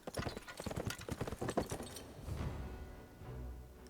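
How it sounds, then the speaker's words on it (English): Horse hooves clip-clop in a rhythmic series of quiet hoofbeats in the anime Frieren: Beyond Journey's End, then settle into a softer rumble, with no voices heard. "A horse?"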